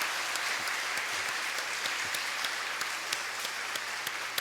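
A church congregation at a Sunday service claps steadily for a newly ordained pastor, a soft, even patter of many hands heard from a distance, with no talking.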